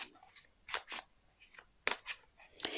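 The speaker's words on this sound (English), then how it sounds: "just while I'm shuffling the Angel Tarot" Tarot cards are shuffled in several quick, crisp riffling bursts separated by short pauses, close and fairly quiet, with no talking.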